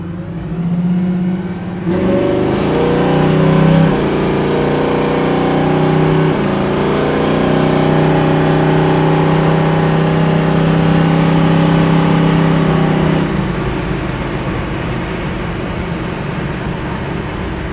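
A 1970 Chevrolet Nova's V8 engine rumbles steadily while driving, with a deep, continuous drone that shifts slightly in pitch and roars on throughout.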